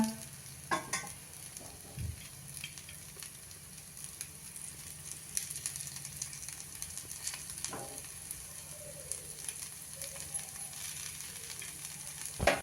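Potato thalipeeth frying in a pan, a steady close sizzle and crackle running throughout with occasional soft scrapes and taps, no talking.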